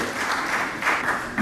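Short burst of applause from a church congregation at an Angolan independence anniversary thanksgiving service in London, dense and fairly loud with slight swells, filling the whole moment.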